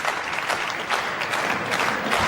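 A crowd at the World Tenpin Masters bowling event applauds with steady, dense clapping that carries on throughout, with a faint murmur of voices mixed in.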